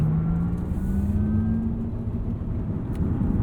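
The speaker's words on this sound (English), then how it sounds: "This is all regenerative braking we're using" Inside a moving 2023 Porsche Taycan Turbo, a low rumble runs with a faint electric whine that slowly glides in pitch as the car slows under regenerative braking.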